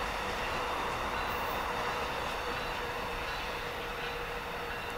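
An Amtrak AEM-7 electric locomotive, number 914, rushes past on the Keystone Line, a dense, loud, continuous roar of wheels and rail noise filling the whole stretch with no voices.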